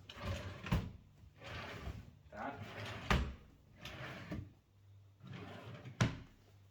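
A drawer in a student dorm room in Turkey thuds shut three times at spaced intervals, sharp knocks set against quieter stretches of a voice talking and room noise.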